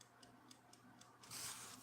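A Linden wind-up clock ticks faintly in a quiet room, five or six soft, evenly spaced ticks, ending with a brief burst of rustling noise.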